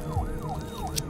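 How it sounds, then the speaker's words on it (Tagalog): A police car siren wails in repeating rising-and-falling sweeps, steady and fairly close, with traffic rumble underneath. "napansin ko ang ingay ng mga sasakyan ng pulis"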